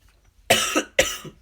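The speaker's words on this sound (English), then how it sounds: "See, that was a dry cough." Two dry coughs, close and fairly loud, about half a second apart, each a sharp burst with no talking around them.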